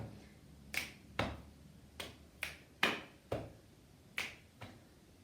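Sharp finger clicks from a body percussion exercise ring out in a rhythmic pattern, mixed with duller chest taps and claps, about seven distinct close hits over a quiet background.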